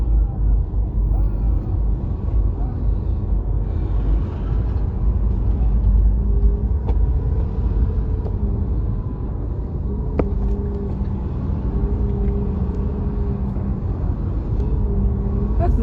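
Steady low rumble inside a car stuck in a traffic jam in 45-degree heat, a constant engine and road drone with faint passing vehicle sounds and a few light clicks.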